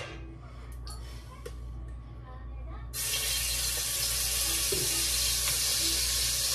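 Garlic and onion sizzle in a frying pan, with a sudden loud, steady crackle starting partway through and continuing to the end, preceded by quieter kitchen background noise.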